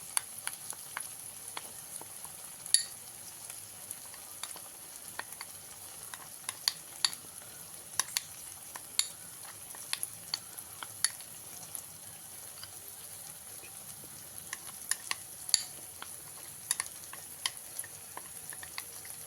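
Masala of coriander powder, cumin powder and kasuri methi sizzles in a pan for an egg curry, a steady close frying hiss broken by frequent scraping strokes of a spatula.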